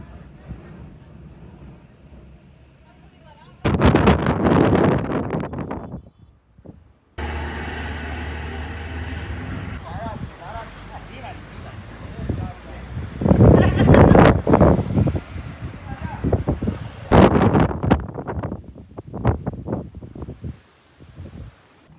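Strong storm wind blows at Vagamon in gusty, roaring bursts that batter the microphone, with rustling between gusts and people talking at times.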